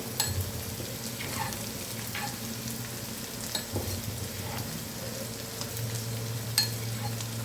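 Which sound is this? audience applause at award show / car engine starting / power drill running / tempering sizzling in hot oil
tempering sizzling in hot oil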